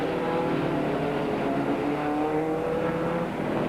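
A 1995 TVR Tuscan race car accelerates hard on a circuit, its engine roaring loud and steady throughout with no voices over it.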